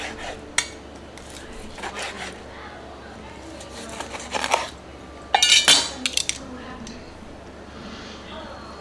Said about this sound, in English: Now we're going to cut into this steak.